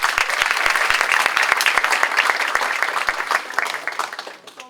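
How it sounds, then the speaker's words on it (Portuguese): An audience at a roundtable on the teaching profession applauds a speaker, dense overlapping claps that hold steady before tapering off near the end. "E palmas para a Marília, por favor."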